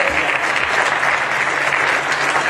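An audience claps steadily and densely at the inauguration of a newly built community dome in Villarreales, a loud, even burst of applause filling the whole stretch.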